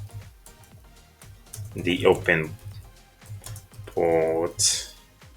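Computer keyboard typing on a Kali Linux machine: quick, light key clicks in short bursts, close by, under and between a voice speaking.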